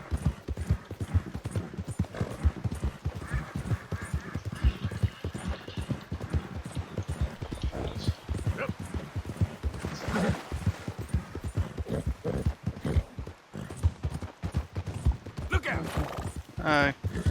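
A horse gallops with rapid, steady hoofbeats throughout a long ride in Red Dead Redemption 2, with occasional whinnies and snorts, while someone talks over it.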